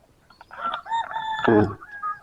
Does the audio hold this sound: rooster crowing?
yes